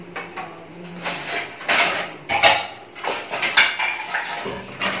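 Dishes, pots and pans being washed in a home kitchen, with clattering knocks and scrapes of metal and crockery coming in uneven bursts close by, alone without talk.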